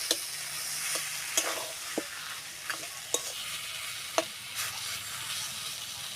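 Raw banana being stirred and fried in a wok: a soft steady sizzle of oil with sharp intermittent scrapes and taps of a spatula against the pan, no voices.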